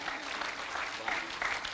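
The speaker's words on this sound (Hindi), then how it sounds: "यहां से वहां तक एक बार खुलकर तालियां बजाइएगा" An audience at a Hindi comedy show applauds to welcome a comedian, with brisk, dense clapping and some crowd voices mixed in.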